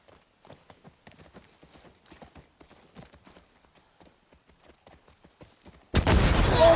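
A horse gallops in The Last of Us Part II video game, its rhythmic hoofbeats soft and steady at a distance, then a sudden loud, sustained blast cuts in at the end.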